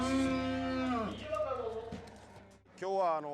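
Cattle moo loudly after a livestock auction, two long drawn-out lows close by with a short gap between them, and a voice talking in the background.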